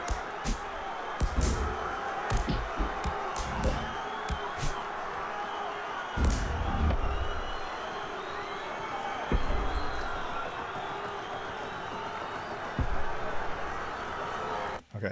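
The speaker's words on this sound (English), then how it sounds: "Let's bring our crowd noise in there." Crowd noise layered into a fight scene under sound design, a continuous murmuring, cheering crowd bed with scattered thumps and hits punching through, steady and fairly loud throughout.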